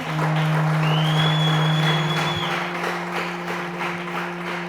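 A church congregation at a wedding service clapping together in a steady, dense patter, with a sustained electronic hum and tone running beneath it.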